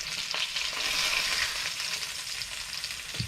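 Beef ribs brown in a hot pan with a loud, dense, continuous sizzle and crackle throughout, and a faint knock near the end.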